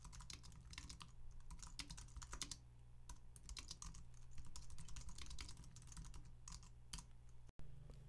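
Someone types Git commands on a computer keyboard in a quick, steady patter of close, quiet keystrokes with brief pauses between bursts.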